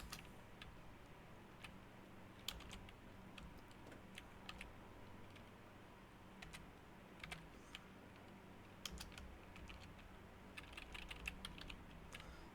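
Quiet, steady tapping of keys on a computer keyboard while code is entered, with irregular bursts of clicks and short pauses throughout.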